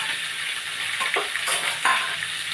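Pumpkin curry frying in a pan with turmeric, green chilies and panch phoron spices, a steady close sizzle with a few louder crackling bursts and soft stirring scrapes, no one talking.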